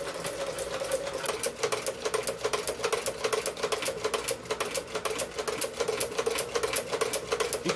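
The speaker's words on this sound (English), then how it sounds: "I can position the needle in one of the old holes and sew the seam" Singer 29-4 sewing machine stitching a leather seam, a rapid, steady mechanical clatter of the needle running continuously up close with no talking.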